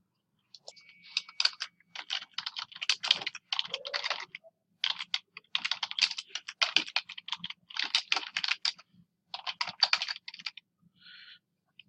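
Someone types a home address on a computer keyboard, with quick irregular bursts of crisp key clicks separated by short pauses, close and clear in a quiet room.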